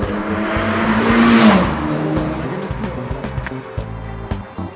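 A car drives past in street traffic, its engine swelling as it nears, peaking loud, then fading with a rising whoosh, while lower engine hum and rumbling continue afterward.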